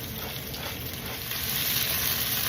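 Chicken pan-searing with black pepper for a white wine cream chicken dish, a steady close sizzle that grows slightly louder partway through, no voices.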